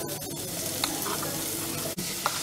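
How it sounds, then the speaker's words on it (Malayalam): Steady loud sizzling as grated carrot is added to a hot pan for carrot halwa, continuous frying crackle with a few small clatters. "ഇനി നമ്മൾ ഇതിനകത്ത് കാരറ്റ് ഇട്ട് കൊടുക്കണം"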